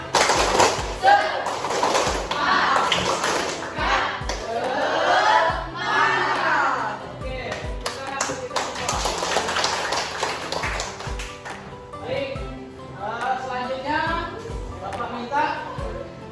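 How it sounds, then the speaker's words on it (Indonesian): A classroom of students performs a rhythmic spirit clap, sharp claps in patterned bursts alongside shouted chanting, before group presentations on the Hajj lesson; a teacher's voice speaks over parts of it. "Tepuk semangat."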